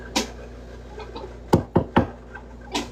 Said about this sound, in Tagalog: Kumatok ka sa kahoy.